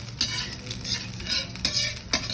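Garlic and vegetables stir-roasting in a pan for a mushroom and flower-vegetable dish: a close, steady sizzle with several sharp scraping strokes of a utensil against the pan, no talking.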